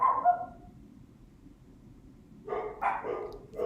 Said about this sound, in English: There's just massive dogs